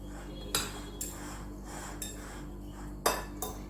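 A spoon stirs chicken sandwich filling with tikka masala in a bowl, knocking against the sides in about five or six crisp metallic clinks spaced irregularly, close and distinct over a steady background hum, with no talking.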